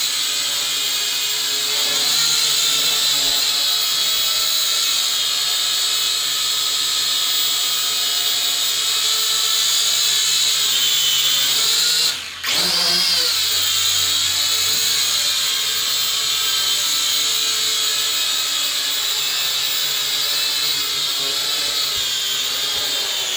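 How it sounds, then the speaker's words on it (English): A small drone flies indoors with its propellers buzzing in a loud, steady, high-pitched whine for the whole stretch. A brief dip near the middle suggests it flips or pauses. "That's how you flip a drone."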